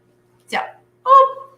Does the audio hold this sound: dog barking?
yes